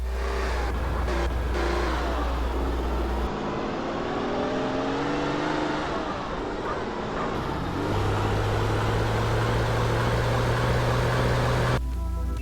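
A raspy V6 engine in the video game GTA San Andreas revs and climbs in pitch, dropping and rising again through shifts, loud and constant throughout with no voices.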